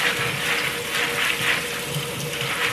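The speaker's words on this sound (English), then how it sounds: "We have to wash them out with running water." Running tap water rinses out meal-prep containers, a steady close gushing with rhythmic surges as the containers are moved under the stream.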